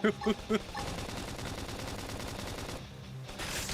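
Three quick loud bursts of gunfire in Xenoblade Chronicles X open the clip, followed by a continuous dense wash of rattling fire and effects.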